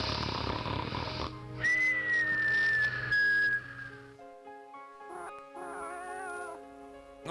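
Inside a Christmas video game, a cat gives a long, drawn-out meow over noisy game sounds, followed by sustained musical tones and chiming jingles.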